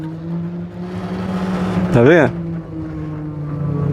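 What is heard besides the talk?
motorized cargo bike engine changing sound on a hill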